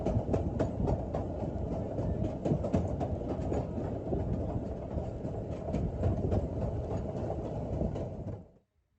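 Ffestiniog Railway gravity train coasting into Porthmadog station, pushed by the locomotive Palmerston: a steady, loud rumble of wheels on rail with rapid clattering clicks, ending abruptly in silence.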